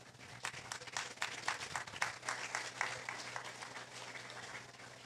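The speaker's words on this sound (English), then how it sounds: "Please, another round of applause." A round of audience applause at the Bank of Nevis 40th anniversary ceremony in St. Kitts and Nevis, fairly faint and distant, with scattered claps forming a steady patter that holds to the end.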